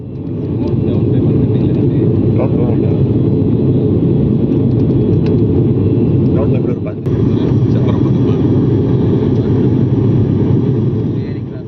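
Steady, loud turboprop drone fills the cabin of an IndiGo ATR aircraft cruising on a flight from Chennai to Hubli, a dense continuous roar with one brief dip midway.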